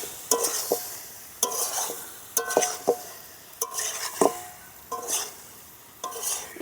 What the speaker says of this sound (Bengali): মশলার সাথে এঁচোড় আর আলু ভালো করে কষে নেব